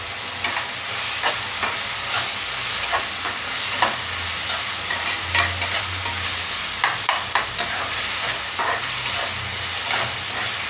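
Chopped vegetables and leafy greens sizzling and hissing steadily in a hot pan while being stirred, with soft scraping clicks of the spoon scattered through a continuous frying hiss, close and alone with no talk.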